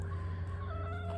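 Chickens in a coop on a small farm kept alongside pigs and bees, giving soft, low clucks at a faint level, close by with no talk over them.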